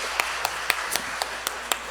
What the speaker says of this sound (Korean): 우리 다 같이 박수로 하나님 앞에 감사